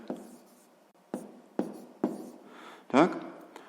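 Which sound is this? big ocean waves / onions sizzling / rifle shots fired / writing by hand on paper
writing by hand on paper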